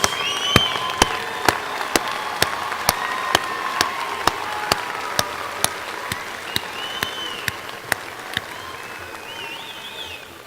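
Steady crowd applause fills a commencement ceremony hall, a continuous patter of many hands cut by a sharp, evenly spaced beat of loud claps, with faint whoops and whistles drifting in.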